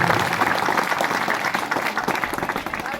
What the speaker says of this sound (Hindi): मैं चाहूंगा एक बार भगवती प्रसाद जी के लिए जोरदार तालियों से उनका स्वागत और अभिनंदन करें।